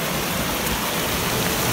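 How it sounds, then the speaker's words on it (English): Running water from a small stream on the Isle of Skye after rain, a steady, dense broadband rush heard close and continuous throughout with no voices. "Here we come to the stream. It's running through a little bit now"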